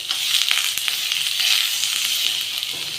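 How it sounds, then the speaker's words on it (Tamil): Tapioca tempered and sautéed in a home kitchen pan gives off a steady, close sizzle, a continuous frying hiss with small crackles and stirring scrapes throughout. "மரவள்ளிக்கிழங்க நல்லா சேர்த்து தாளித்து விட்டுக்கலாம்."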